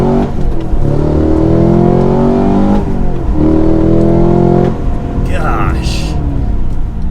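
Manual 2022 Cadillac CT5-V Blackwing accelerating hard, engine loud and close from inside the car, revs climbing through several gears with brief dips at each shift, then easing off near the end.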